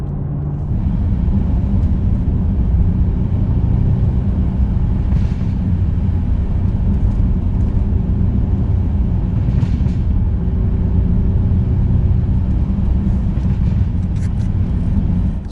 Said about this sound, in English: give you pretty much a sound check of the car, drive it around my country lanes